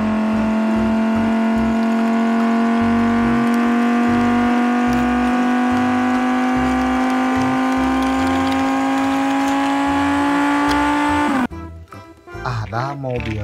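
A blue supercar's engine holds one loud, steady whine that climbs slowly in pitch for about eleven seconds, as if accelerating smoothly, then cuts off abruptly into a short burst of choppier, uneven noise.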